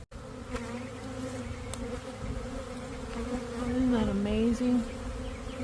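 A swarm of honeybees being relocated buzzes steadily close to the microphone, individual bees droning past louder toward the end, with a person speaking briefly.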